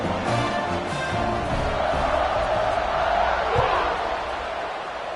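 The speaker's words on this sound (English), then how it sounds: "this crowd is buzzing after that last score" Stadium crowd in a college football video game, a dense continuous roar that swells slightly mid-clip, with commentary voices underneath.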